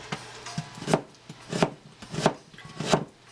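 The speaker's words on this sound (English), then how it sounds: "chop this onion up real quick" Five evenly spaced thuds of a knife chopping an onion on a cutting board, each a crisp, close knock with a short scrape, in a quiet kitchen.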